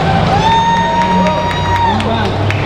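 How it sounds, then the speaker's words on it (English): An audience at a gathering cheers and whoops loudly, mixing sustained shouts and clapping in a dense, continuous crowd roar, with a few raised voices standing out. "So perhaps we can have a round of applause, make some noise."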